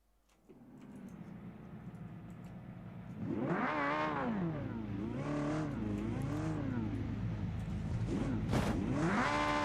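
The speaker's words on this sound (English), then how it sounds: "somebody starts revving their had to rev their engine" A car engine in the racing game BeamNG revs repeatedly, rising and falling in pitch in several loud surges over a steady idle rumble, with no voices.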